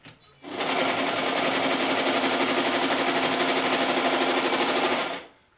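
Chaika-134 sewing machine from the late 1980s running steadily at speed for about five seconds, a loud, rattling, buzzy whir from its noisy gear drive, starting and stopping cleanly with no talk over it.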